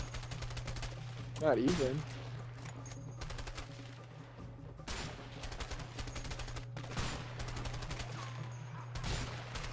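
Gunfire in the co-op video game A Way Out, rapid bursts of shots and quick repeated cracks scattered through the clip, with a steady low hum underneath and players talking over it.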